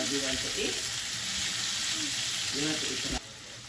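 Tomatoes sautéing and being crushed in a pan while cooking sarciadong lamarang, a steady close sizzle of frying with occasional scraping and stirring, soft voice in the background.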